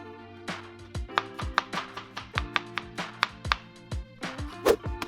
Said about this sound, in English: Then you just want to slice the pepper up into strips that are a little thicker than 1/8 of an inch